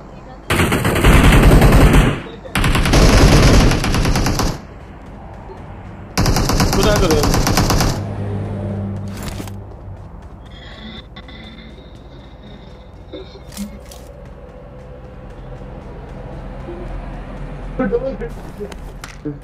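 Machine-gun bursts from a battle royale video game, three loud sustained volleys of rapid automatic fire in the first eight seconds, followed by quieter scattered shots and game noise while a player talks throughout.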